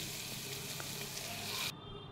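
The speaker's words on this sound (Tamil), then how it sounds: "குக்கரில் எண்ணெயை ஊற்றி சூடு ஏறின உடனே புதினாவை போட்டு தாளிங்க" Mint leaves sizzle in hot oil inside a pressure cooker, a steady close crackling hiss that cuts off abruptly near the end, leaving only faint background.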